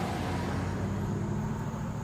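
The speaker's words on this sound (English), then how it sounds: "That's a Grand Cherokee." A Jeep Grand Cherokee drives past on a road, a steady broadband rush of engine and tyre noise at constant loudness through the short moment.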